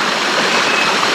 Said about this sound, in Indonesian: airnya bening karena ini sungai terpencil ya